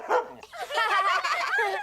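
A dog barks on command in a cartoon, giving a short yip followed by a longer, wavering vocal bark-whine, close and clear without other talk.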